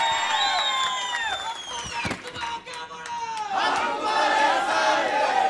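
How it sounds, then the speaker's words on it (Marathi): A crowd at a political rally in Indapur shouts and cheers loudly, with rising and falling voices and sharp bursts, briefly dipping before swelling again into dense, continuous clamour. "जोरात टाळ्या वाजवून त्यांना"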